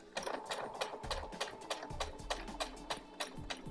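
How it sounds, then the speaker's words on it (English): A sewing machine stitches straight across a cross body bag, joining the outer and inner pieces. It runs in a fast, steady, rhythmic run of needle clatter, close and clear. "Now I'm going to let go of the reverse button and just sew straight across."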